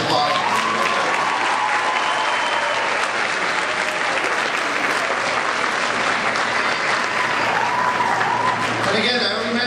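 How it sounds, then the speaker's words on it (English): Loud, sustained applause from an audience at a university graduation ceremony, honoring the faculty, a dense steady wash of clapping that fills the whole stretch with little crowd noise. "Let's give them another round of applause."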